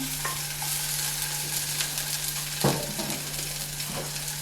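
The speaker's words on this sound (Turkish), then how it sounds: "Sadece soteleme yapıyoruz. Kırmızı biberlerimi atıyorum." Red peppers sautéing in a pan for Korean japchae, giving a steady sizzle and frying hiss with a few scraping stir strokes and light utensil knocks, close and without talk.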